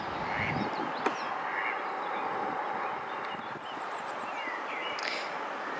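A mother duck with her ten ducklings by a moored narrowboat: faint, scattered peeping calls from the ducklings over a steady outdoor background hiss, with a single brief knock partway through.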